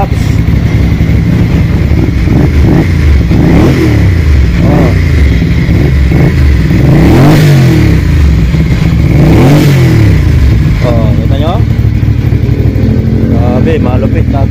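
Ducati Monster 650cc motorcycle engine, close and loud, idling with a lumpy rumble and revved repeatedly in rising and falling swells, several throttle blips in a row over steady engine noise.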